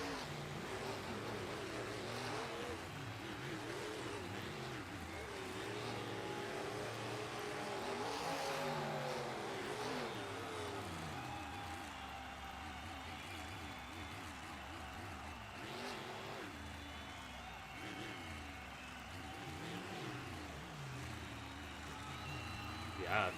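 Racing trucks lapping a circuit during a world finals qualifying session, heard as a continuous engine drone with rising and falling revs and passes, steady and fairly distant beneath ongoing commentary.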